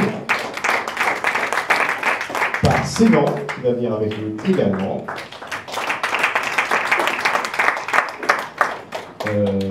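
An audience at an opening ceremony keeps up rhythmic clapping for a newly announced jury member, with a presenter speaking over it and a short sung or held vocal break in the middle.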